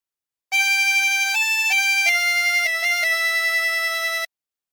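A tremolo harmonica with 16 holes plays a short phrase of a song, several sustained reedy notes changing pitch in steady succession, loud and close with no voices.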